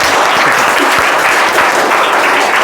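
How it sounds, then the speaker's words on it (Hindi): Students clap loudly and steadily at a school prize distribution ceremony. The crowd of hands gives a close, dense burst of applause that lasts the whole moment. "चलो ताली दो।"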